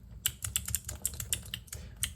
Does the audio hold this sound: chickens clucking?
no